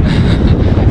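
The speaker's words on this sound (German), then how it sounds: "Ziemlicher Gegenwind jetzt." Strong headwind roars across the microphone while riding a road bike on a multi-lane road near Suvarnabhumi Airport in Bangkok, a loud, constant buffeting rush with no voices.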